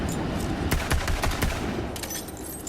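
Rapid bursts of gunfire from a gun in Borderlands 3, a run of sharp shots at an uneven rhythm with a short pause and then more shots, fairly quiet and heard alone.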